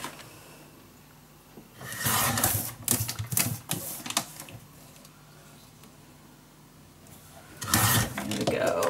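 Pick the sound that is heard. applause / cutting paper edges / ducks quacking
cutting paper edges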